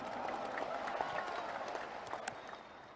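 Applause from an audience at a NasDem party political speech in Indonesia, a steady dense patter of many hands clapping throughout, moderately distant with some crowd murmur underneath.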